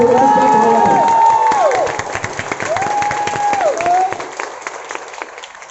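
An indoor audience bursts into loud applause and cheering at a product presentation, dense clapping swelling at first and then thinning gradually, with a few shouts mixed in.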